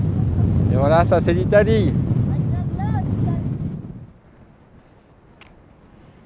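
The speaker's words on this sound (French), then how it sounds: "un vent à décorner les bœufs" Strong mountain wind buffets the microphone on a hike to the Lacs de Fenêtre, a heavy low rumble while someone speaks briefly, then the gusts ease to a faint rustle.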